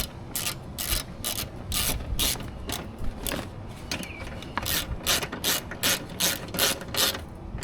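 Ratchet tightening the bolts of a power window regulator, a steady run of quick close clicks in repeated strokes that continue for several seconds without any voice.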